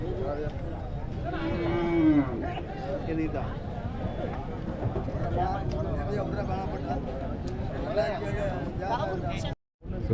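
Cattle low and moo repeatedly at a busy livestock market in Tamil Nadu, amid steady crowd chatter and people talking nearby.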